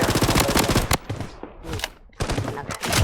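A PKM machine gun in the Blood Strike shooting game fires in loud, rapid close bursts, with a short pause in the middle before the firing resumes.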